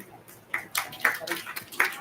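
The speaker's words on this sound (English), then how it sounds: "A round of applause to the boy here" Students in a classroom clap in scattered, uneven bursts, a few sharp claps rather than full applause, fairly close and moderately loud, with faint voices around them.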